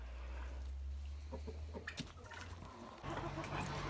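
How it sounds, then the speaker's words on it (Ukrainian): Rooster in a farmyard giving a few short clucks and calls close by, with faint rustling and other fowl around. "Гарний такий півник."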